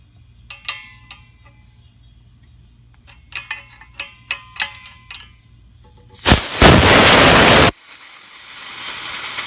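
Compressed CO2 left in a pump line from a Power Tank bottle vents in a loud, steady hiss that lasts about a second and a half. It follows a run of small clicks and taps, and a softer hiss continues afterward.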